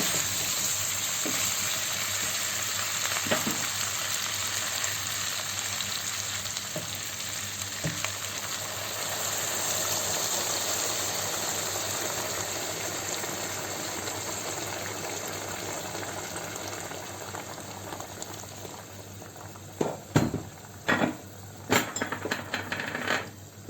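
Boiled water, about one and a half litres, goes into a pot of meatballs for sour meatball soup; a steady rushing, sizzling wash of sound continues, then a few sharp clicks and knocks come near the end.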